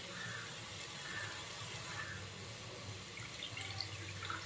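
Water is drained from basmati rice that has soaked for half an hour, giving a steady trickling, splashing flow close by with no talk.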